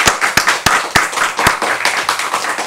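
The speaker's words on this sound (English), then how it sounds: "Make sure we give all of our poets a good round of applause" Applause for a student poet at a reading: a small audience clapping, with several sharp distinct claps standing out over a thinner, uneven patter of hands.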